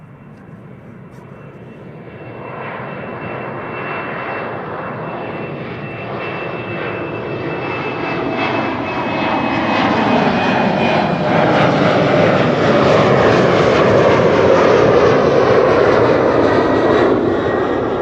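A jet airliner departs from a runway at Amsterdam Schiphol Airport, its engine roar building steadily from a moderate rumble to a loud, sustained roar as it passes close by, with no voices present.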